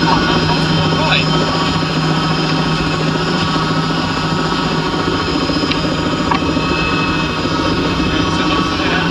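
A Strv 103C tank's engine drones in gear at a steady, loud pitch throughout, a continuous mechanical roar heard from inside the vehicle with someone speaking over it.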